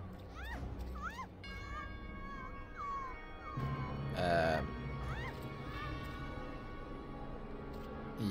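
A cat meows in the video game Alice Madness Returns, several short rising mews over a droning musical background, with a louder burst of game sound in the middle.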